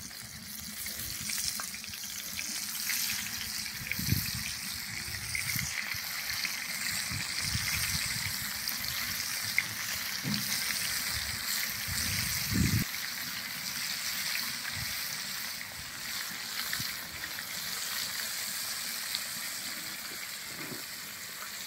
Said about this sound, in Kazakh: шетінен қуыруды бастаймыз